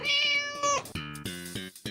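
A kitten meows close and clear, one long drawn-out cry followed by a run of shorter, rapid meows, with no talk over it.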